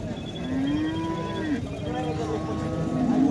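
At a cow and heifer market, a large cow gives a long, low moo close by, its drawn-out call rising and then falling. Market chatter runs underneath.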